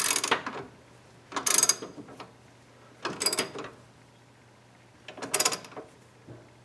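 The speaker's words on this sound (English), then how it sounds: "Then we can tighten up down here." Ratchet tightening a sway bar link nut on a Jeep, heard as four separate bursts of quick clicking spaced about every one to two seconds, close and fairly loud with no talking.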